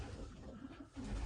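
Pigeons coo softly inside a loft, a low, rolling murmur of a few birds close by, heard briefly with no talking.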